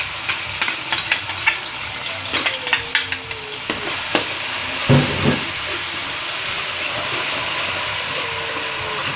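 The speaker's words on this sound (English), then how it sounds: "We're going to give this about 2 minutes to fry" Onion, garlic, pepper and ginger frying in a pan, a steady hiss and sizzle throughout with a cluster of sharp clicks and scrapes early on from stirring, no voices.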